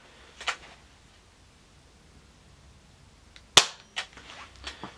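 A Diana Mod 6 air pistol fires a pellet during a chronograph and shooting test. The shot is one sharp, close crack, with a couple of faint clicks before it and a few lighter ticks after it, in a quiet room with no talking.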